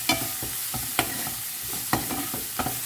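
Fish pieces being stirred with homemade masala in a pan, sharp spoon clacks and scrapes at an irregular rhythm over a soft background sizzle, close up, with no talking.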